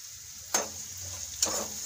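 Spices stirred into a dish frying in a pan, two soft scraping strokes over a faint steady sizzle, close and quiet with no talk.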